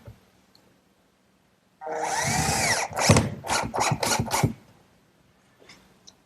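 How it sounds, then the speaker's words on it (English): A power drill drives drywall screws into an oak vanity base, a close whirring drive followed by several short sharp bursts as the screws seat into the wood, with brief quiet before and after. "that also gets fastened with a few drywall screws"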